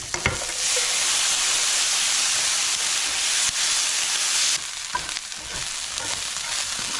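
Chicken chow mein with ginger stir-fries in a hot pan, giving a loud, dense, continuous sizzle and hiss close by with a few scraping stirs; the sizzle drops sharply partway through and then carries on more softly.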